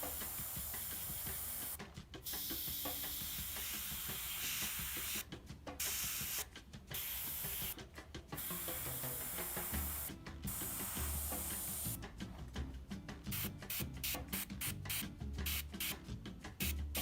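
An airbrush sprays Mission Models acrylic paint in a steady, close hiss that runs through most of the stretch, broken by several short pauses and a quick series of on-off bursts near the end.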